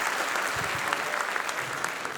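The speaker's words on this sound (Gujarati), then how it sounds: "એટલે એકવાર લવારીના તમામને વધાવો તાળીઓથી" A talk show audience claps in a dense, even burst of applause that carries all the way through.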